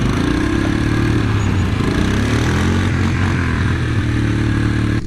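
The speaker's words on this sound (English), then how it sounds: "Lane needs a new muffler on his ATV. That thing is ridiculously loud." A loud ATV engine in need of a new muffler runs close by, with a steady, harsh, rumbling drone and slight shifts in pitch throughout.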